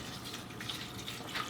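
Water pours steadily into a pot of onion skins being prepared as a natural dye bath for wool yarn, with a continuous splashing wash of moderate loudness and no voices.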